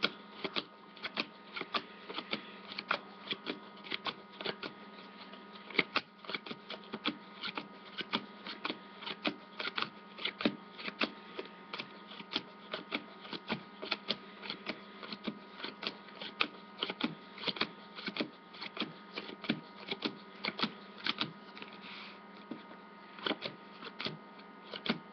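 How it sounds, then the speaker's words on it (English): Playing cards slapped down one after another onto a table during a card trick, a steady run of crisp, close ticking snaps filling the whole stretch with no talking. "I'm gonna deal down the card face up down on the table"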